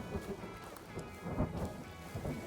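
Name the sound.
thunder and rain in the video game The Forest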